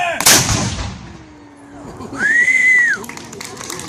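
The Point Clear cannon fires once with a sharp, loud boom near the start that fades into a rumble, followed by outdoor crowd noise and a rising whistle-like tone.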